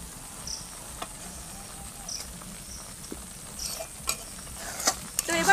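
Milk cream from cow's milk simmers slowly into ghee, a soft bubbling sizzle with light scraping and stirring taps that grow busier toward the end, close and fairly quiet.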